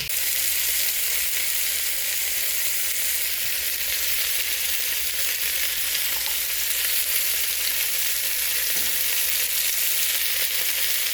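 Beef pieces browning in a hot pan for braised beef stew give off a loud, even, continuous sizzle, close and unbroken for the whole stretch with no talking.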